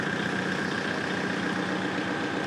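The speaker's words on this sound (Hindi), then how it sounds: "और जो आवाज़ है ट्रैक्टर की वो भी काफ़ी स्मूथ है" Kubota MU 4501 tractor engine with a balancer shaft idling close by, a smooth steady diesel throb with an even low pulse and no variation.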